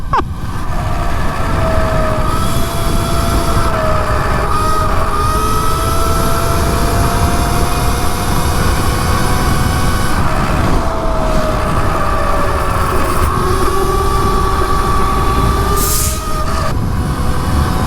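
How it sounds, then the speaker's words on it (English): Aipas S1 electric dirt motorcycle ridden near 50 mph on the road, a continuous high motor whine with shifting pitch over heavy rushing wind noise, steady and close. "here I am riding an electric motorcycle"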